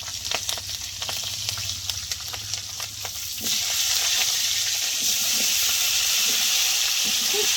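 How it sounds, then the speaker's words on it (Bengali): Radish and potato fry in oil with black cumin seeds and green chilli. A softer sizzle with light stirring clatter swells halfway through into a loud, steady hiss of frying. "এবার মূলো আলুটা ভালো করে ভেজে নেব।"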